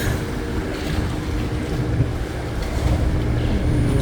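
Low, churning boat engine rumble mixed with wind buffeting and splashing water on a busy river waterway in Brazil, a constant busy noise with no breaks and no talking.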